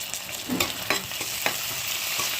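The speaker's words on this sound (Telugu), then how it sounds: "ఇప్పుడు టమాటోలు వేసేసుకుంటానండి" Tomatoes tipped into a frying pan with boiled taro, giving a steady close sizzle with a few sharp scraping stirs on top.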